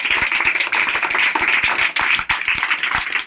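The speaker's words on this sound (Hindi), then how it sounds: "इसके लिए एक जोरदार ताली और हो जाए" Students at a school clap together in a hearty round, with close, sharp individual claps falling in a quick, uneven patter that stays strong for a few seconds.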